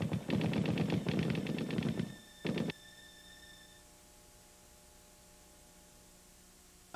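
A rapid burst of automatic gunfire rattles for about two seconds, followed by one short extra burst, then a quiet hum.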